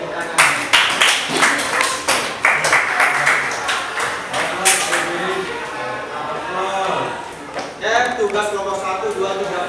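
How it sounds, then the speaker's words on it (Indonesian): A classroom group claps loosely with uneven, scattered strikes. Talk overlaps the clapping and carries on toward the end. "Beri tepuk tangan."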